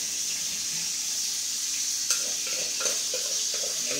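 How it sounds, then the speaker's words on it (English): A whisk scraping and stirring in a pan while smothered pork chops cook, a continuous hiss of sizzling with a few soft scrapes and taps, close and steady, no talking. "I need a whisk"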